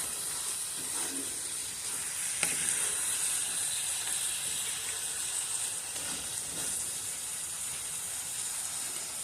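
Beef for beef stroganoff cooking in a hot pan, a steady close sizzle and hiss with a couple of faint clinks, running without talk.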